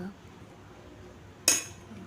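Steel dishes clink once against each other, a single sharp metallic knock about three-quarters through, after quiet handling while oil is rubbed onto them.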